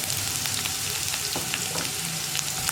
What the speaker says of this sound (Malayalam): ഒന്ന് വഴന്ന് ട്രാൻസ്പെറൻ്റായി വരുന്നത് വരെ ഇളക്കി കൊടുക്കുക